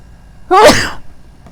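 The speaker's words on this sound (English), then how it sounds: "I feel like I'm going to sneeze this second." A single sharp sneeze bursts out loudly and close, preceded by a quick rising intake of breath, with quiet stillness around it.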